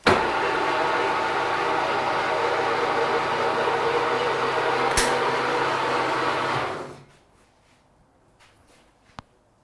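An electric car lift lowers a Mercedes SL 500 in a workshop, giving a loud, steady motor whir for about seven seconds that then cuts off, leaving a quiet room with a couple of faint clicks.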